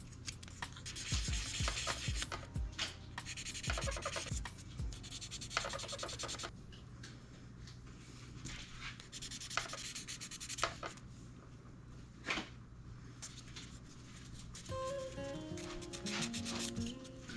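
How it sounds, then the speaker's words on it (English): Sandpaper is rubbed back and forth on the plastic gun barrel of an Academy scale model kit, making soft, close, rhythmic rasping strokes with brief pauses and no talking. "I start out with medium sanding paper and work my way to finer grits to get a nice"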